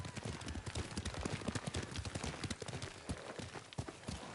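Horse galloping in Ghost of Tsushima, a steady rapid clip-clop of hooves running continuously with no pause, fairly loud and close, with faint background game ambience.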